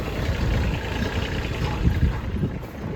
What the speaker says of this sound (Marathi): ट्रॅक्टरचा आवाज ऐकूनच लय दिवस झाले मला